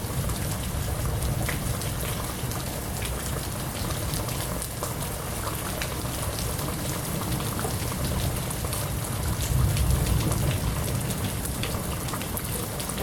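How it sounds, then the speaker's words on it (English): Heavy monsoon rain pours down during a summer Sonoran Desert storm in Arizona with strong winds, a dense continuous roar of rain on surfaces that holds steady throughout and swells briefly near the end. "We're having a big monsoon right now in the Sonoran Desert. Big rains, heavy winds,"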